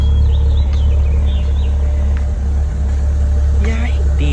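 Maserati Levante SUV engine rumbling nearby, a loud low steady idle throughout with people talking over it.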